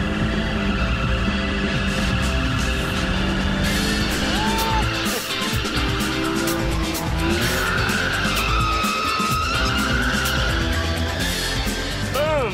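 A car skids through a turn on a cone-marked course, its tires squealing and sliding under a steady, loud engine roar with the e-brake pulled to extend into a sweeper.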